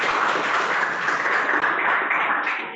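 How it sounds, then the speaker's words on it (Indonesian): Classroom of students applauding a classmate, a dense burst of clapping that holds steady, then thins and fades toward the end, close and without talk. "Tepuk tangan untuk temannya"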